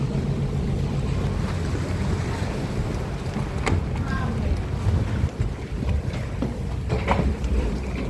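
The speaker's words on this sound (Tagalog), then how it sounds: "Nakaupo na po kami dito sa may bangka" Engine rumble and water rushing around a moving passenger boat at Boracay, with steady wind buffeting the microphone and no speech.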